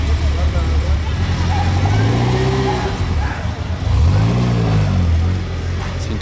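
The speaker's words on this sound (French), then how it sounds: "Ça fait vraiment le bruit de la vieille Ferrari." An old white Ferrari 308 GTS engine revs close by, its low rumble rising and falling in two strong sweeps over a steady idle, with crowd noise and voices in the background.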